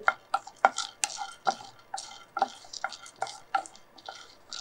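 Ingredients for kaapparisi being lightly dry-roasted in a pan and stirred, heard as close, rhythmic scraping taps about twice a second, crisp and distinct against a quiet background with no talk.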